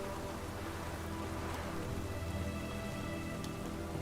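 Rain falls in the video game The Witcher 3, a steady, even patter and wash that runs unbroken and fairly soft, with no voices.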